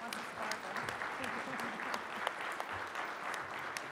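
Audience at an education talk clapping to thank two participants, a dense, moderately loud patter of many hands with some voices murmuring beneath.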